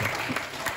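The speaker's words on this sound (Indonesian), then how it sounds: "Kita tepuk tangan." A brief burst of applause from a school class audience, soft and somewhat distant, steady clapping lasting under a second.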